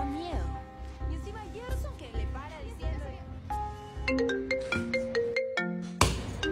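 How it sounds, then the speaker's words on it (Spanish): Mobile phone ringtone playing a loud melodic repeating tune that starts after people talk and keeps going, with voices over its first part. "Te están llamando, ¿no?"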